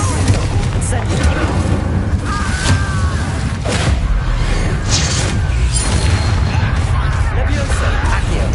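An Incendio fire spell cast in a game bursts out as a dense, roaring rush with deep booming rumbles, loud and continuous throughout, with no clear pauses.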